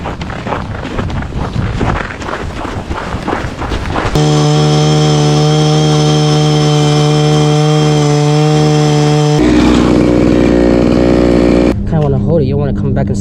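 Gas-powered ice auger drilling a hole through frozen lake ice at Sand Lake, Alaska, a loud steady engine drone that starts after a few seconds of windy outdoor noise, runs evenly, then cuts back to a rougher idle near the end.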